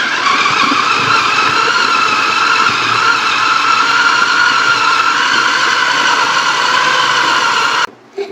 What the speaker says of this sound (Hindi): ले जी, ब्लेंडिंग का स्विच हमने लगा लिया जी। अब हम इसको चलाएंगे।